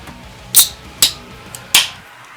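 Can of Monster Strawberry Shot energy drink with a red pop tab being handled and cracked open: several sharp metallic clicks and a crisp pop of the tab, close and loud, with no talking.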